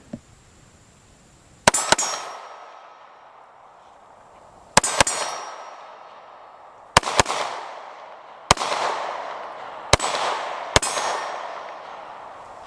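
Shots from a Taurus GX4 handgun striking steel targets: six sharp cracks, each followed by a ringing metallic clang, spaced irregularly about one to three seconds apart, with a faint hum between shots.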